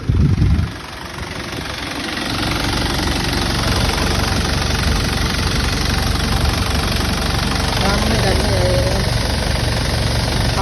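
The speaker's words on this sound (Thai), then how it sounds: "สตาร์ทครั้งเดียวเครื่องนิ่มเลย" A stock Thai-market Dragon Eye pickup's engine idles steadily after a single start, a low continuous rumble close by with faint knocking texture and no speech over it.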